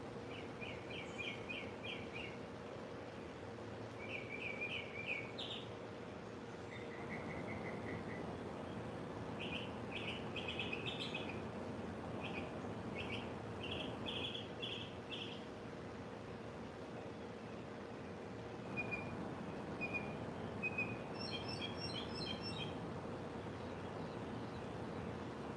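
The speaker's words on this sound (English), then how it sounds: "we just relax, listen to the birds" Birds singing outdoors, repeated short chirping phrases and trills from several birds at a moderate distance over a constant low background hum, with occasional pauses between calls.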